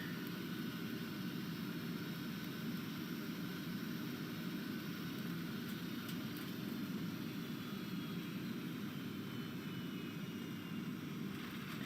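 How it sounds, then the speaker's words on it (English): Steady cabin drone of an airplane engine aboard a Delta flight from Los Angeles to Costa Rica, a continuous low rumble with broadband hiss, even and unbroken throughout with no talk. "you can hear the plane engine"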